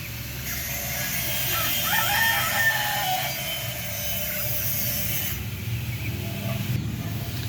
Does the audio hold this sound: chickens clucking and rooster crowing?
yes